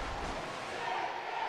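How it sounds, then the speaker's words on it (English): Hull Stingrays fans at an ice hockey game against Fife Flyers keep up a steady, distant wash of crowd noise and cheering, a continuous arena roar with no single standout shout. "Stingrays crowd still right behind the team."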